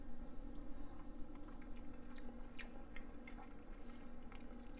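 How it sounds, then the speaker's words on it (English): Someone chewing a bite of rice and thick gravy, soft wet mouth clicks and smacks repeating close up over a quiet room hum. "I'm gonna try a little bit of the rice and the gravy."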